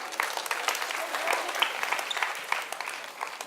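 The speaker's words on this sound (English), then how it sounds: "Let's give him a round of applause." An audience at a science show applauds a volunteer, a fairly faint, dense patter of clapping that runs steadily throughout, with scattered voices mixed in.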